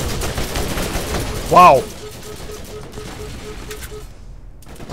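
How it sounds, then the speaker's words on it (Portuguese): In Borderlands, a grenade blast and gunfire erupt in a single loud burst near the middle, then fade into quieter ambience; a voice exclaims just before it. "Alguém jogou uma granada em mim."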